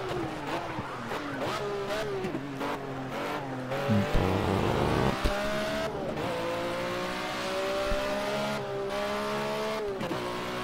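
Car engine revving and shifting through gears with tyres squealing in the Project CARS racing video game, a loud continuous engine whine rising and falling, with a voice talking over it.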